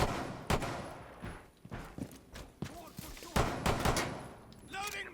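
SAS shotguns fire in a Rainbow Six Siege match, several sharp, loud blasts spaced irregularly among other in-game clatter and action sounds.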